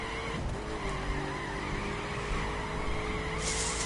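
A Koenigsegg Agera drift car slides with a continuous tire squeal and engine roar, loud and unbroken throughout, no talking.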